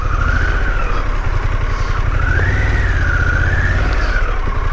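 Car tyres spin and slide in woodland mud, the engine whining steadily and rising and falling in pitch as the wheels churn, loud and close throughout with no pause.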